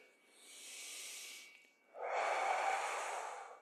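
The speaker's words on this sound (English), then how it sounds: "exhale as we lift" Two long breaths during a seated chair stretch, a softer airy breath followed by a louder, fuller exhale, close and alone.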